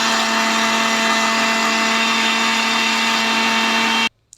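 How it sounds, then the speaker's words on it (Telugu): A mixer grinder whirs steadily at close range with a constant motor hum as it blends ridge gourd peel into chutney, then cuts off abruptly near the end. "ఈ పొట్టును కూడా దీంట్లోకి యాడ్ చేసి మళ్ళీ మిక్సీ పెట్టుకోవాలి"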